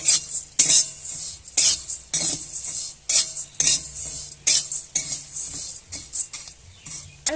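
Puffed rice being stirred in a pan with red chili powder, fried curry leaves and peanuts, a steady run of close scraping, rattling metal-spoon strokes at a quick, even rhythm with no talk.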